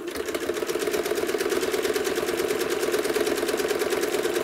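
A sewing machine quilting through a quilt, running continuously with a steady rapid whirring hum and rhythmic needle chatter, close and fairly loud with no talking.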